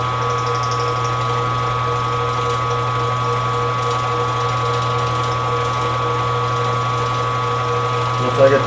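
A milling machine runs with a steady mechanical hum and whine as its cutter is eased slowly into the workpiece by hand, continuous and loud, with a brief knock at the end.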